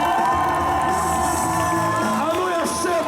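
A school crowd at a spring celebration in a lyceum cheers, whoops and applauds, with children shouting. The noise is loud and lively, and voices carry through it.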